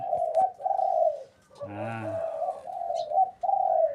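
Pigeons coo back and forth up close, steady low warbling calls broken by short pauses, with one deeper rolling coo breaking in midway.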